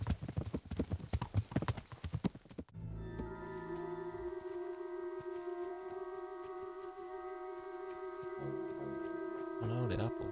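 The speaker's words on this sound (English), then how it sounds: "Which is where I bought my beautiful horse, Mr. Bayard, that we are riding on" Horse hooves clip-clop in a quick, steady rhythm while riding in the medieval game Kingdom Come: Deliverance, loud at first, then giving way to sustained tonal game music and ambience.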